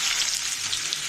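Onions frying in hot oil in a pan with whole spices, cinnamon and cardamom, beside chicken: a steady, close hiss of sizzling that runs evenly throughout with no talk.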